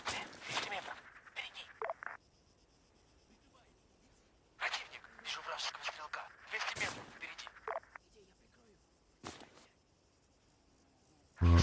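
Arma 3 gunfire during an Antistasi session as a squad opens up from a ridge: clustered bursts of rapid, sharp shots separated by quiet pauses, with a loud close report at the very end.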